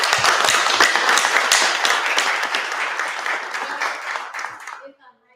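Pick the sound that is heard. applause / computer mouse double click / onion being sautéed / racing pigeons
applause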